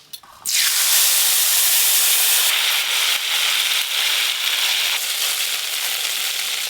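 A mustard and dried red chilli paste, thinned with water, strained into hot oil in a wok for a shol fish curry, bursting into a loud, sustained sizzle and spatter that continues without pause.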